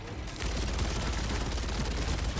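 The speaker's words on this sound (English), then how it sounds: "And the minigun is a lot of fun to use." Dense, continuous minigun fire in Helldivers 2 rattles on loud and unbroken after a brief quieter lead-in, a relentless roaring burst with no pauses and no talking.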